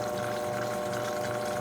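A blender whirs steadily as it whisks scrambled eggs, a continuous close motor hum with a liquid churn and no voices.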